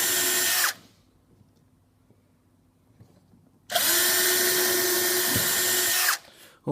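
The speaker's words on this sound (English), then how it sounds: "Okay, 6 pilot holes drilled" A power drill bores pilot holes into a wooden box in two loud, close, high-pitched whirring bursts separated by a quiet pause with faint handling clicks.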